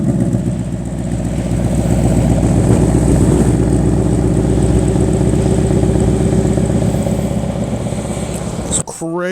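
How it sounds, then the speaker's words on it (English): A deep cherry red 2023 Ford Mustang GT Premium with the added performance exhaust, its V8 rumbling loud and close at idle with a steady throbbing burble and faint clatter, ending in a brief sharp noise. "also has the added performance exhaust"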